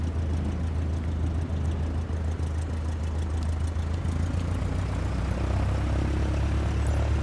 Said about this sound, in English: Now gently increase throttle to get the aircraft moving.